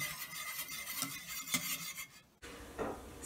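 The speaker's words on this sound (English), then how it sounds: "Just going to stir it until it's dissolved." A spoon stirs gelatin into apple juice in a pot or bowl, a steady scraping and clinking close up for a couple of seconds, then a brief pause and softer stirring.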